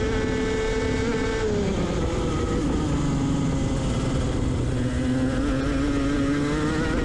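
A go-kart engine howls at racing speed in a TKC Pallas Karting round 6 final, loud and continuous with a rising and falling pitch as the kart accelerates and shifts along the track.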